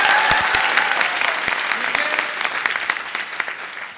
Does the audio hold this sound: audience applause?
yes